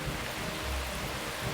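Heavy downpour of rain in a city, a steady, dense hiss of falling water across a short span with a faint low rumble underneath, no voices.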